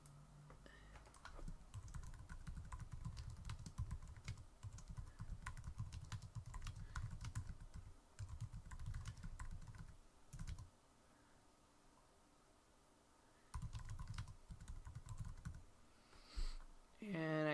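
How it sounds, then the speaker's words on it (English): Typing on a computer keyboard, a steady run of close key clicks in bursts with short pauses, faint background talk-free room hum, ending with a few louder taps. "And I typed something wrong, so I'm going to correct my spelling."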